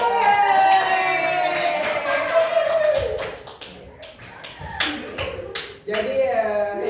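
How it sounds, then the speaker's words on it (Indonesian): A class of schoolchildren claps their hands in a brisk burst of sharp, close taps, with a few children's voices mixed in as the clapping trails off. "Tepuk tangan."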